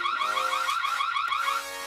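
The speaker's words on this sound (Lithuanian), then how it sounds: "paleisti signalizacijos garsą" Alarm siren from an RA11 PRO wireless IP security camera, a loud, continuous electronic warble that cycles rapidly in pitch and then drops slightly in level near the end.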